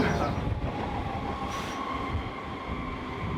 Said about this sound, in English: A lot of high-speed trains pass through